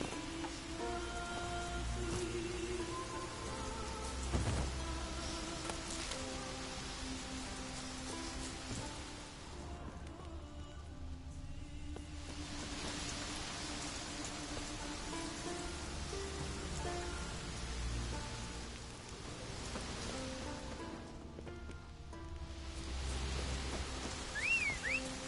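Continuous rainfall in The Witcher 3: Wild Hunt patters steadily, with a soft tonal music bed layered underneath; the rain swells and thins in places.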